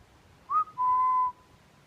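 A person whistles outdoors on a hillside: a short rising chirp, then one long steady clear note, close and loud against faint wind.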